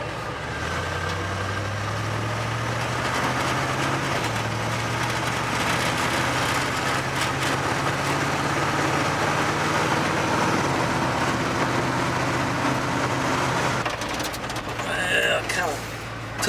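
A 1957 GMC truck idles along the road, its low engine drone steady and close inside the cab, shifting pitch slightly as it rolls, with a brief mechanical clatter near the end.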